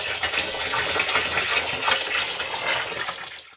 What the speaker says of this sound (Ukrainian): Після того, як я висипав у цю ємність весь об'єм варення, який я запланував для бродіння, я додаю очищену воду.